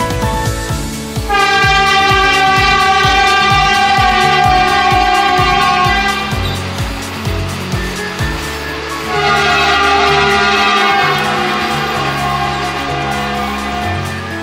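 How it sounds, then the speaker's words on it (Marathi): A Vande Bharat train passes Darekasa railway station, its loud horn blaring in long sustained blasts over a rapid rhythmic clatter of wheels on the rails, close to the listener. "ही वंदे भारत ट्रेन गेली"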